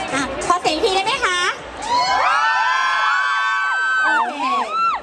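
Concert crowd at a Muang Thong Thani booth event screaming and cheering loudly on request, a high-pitched wave of whoops that swells and holds for several seconds after some brief chatter.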